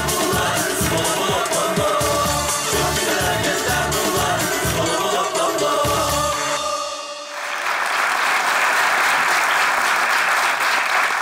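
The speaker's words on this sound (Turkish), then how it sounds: "Alkışlar yazarlarına gelsin, oyuncularına gelsin." Studio audience applause from a Turkish TV comedy show, loud and dense with broadband clapping; the first part blends with music and other sound, then after a brief dip the clapping continues alone and steady.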